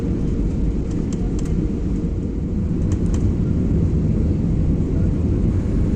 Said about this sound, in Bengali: আমাদের ফ্লাইট ল্যান্ড করতে চলেছে দিল্লি এয়ারপোর্টে